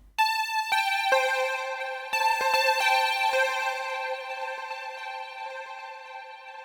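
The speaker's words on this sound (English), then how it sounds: "Layered with this DX bell pad and the next one called the Florida Keys from Nexus 2." Layered synth bells, a DX bell pad combined with the Nexus 2 Florida Keys patch, play a bright chiming melody. The notes are struck one after another with long ringing tails that overlap, loud and clear, with no voices.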